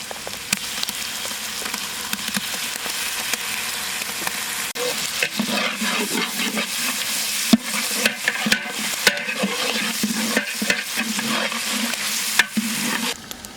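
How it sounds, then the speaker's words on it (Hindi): Onions with ginger garlic paste fry and hiss in a pan for goat leg biryani, a steady loud sizzle broken by repeated scraping stirs and clinks of the spoon. "ऑनियंस थोड़ा पकते ही हम लोग इसमें जिंजर गार्लिक पेस्ट ऐड करेंगे।"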